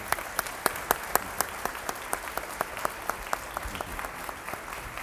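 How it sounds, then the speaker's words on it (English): Scattered applause for a panel from a small audience, individual claps clearly distinct and steady, fading slightly toward the end. "Would you please give our panelists a round of applause for their great presentation?"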